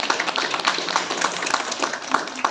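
Audience applause at a lightning-safety awareness event, a lively patter of many hands clapping in quick irregular bursts, fairly close and loud.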